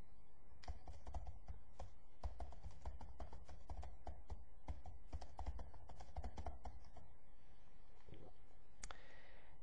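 Quiet, close rapid keystrokes on a computer keyboard, a continuous irregular clatter of key taps entering text, ending with a brief different click.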